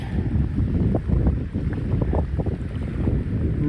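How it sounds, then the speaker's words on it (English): Whitecap waves churned up by strong wind on a lake in the Woodland Caribou wilderness, a steady rough wash of water and gusting wind buffeting the microphone up close, with no voices. "That's whitecaps right in my face."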